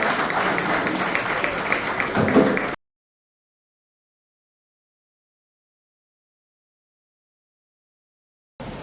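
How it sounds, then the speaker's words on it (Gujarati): An audience at a talk gathering claps for a few seconds, a steady burst of applause that cuts off abruptly into silence. "જોરદાર તાળીઓથી અમે વધારી લઈએ"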